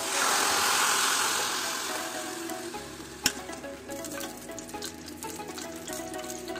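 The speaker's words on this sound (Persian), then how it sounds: "روغن میریزیم داخل مایتابه، یکم زردچوبه میریزیم" Oil and turmeric fry in a pan, a bright sizzling hiss that is loudest at first and then settles lower, broken by a single sharp clink and light stirring scrapes.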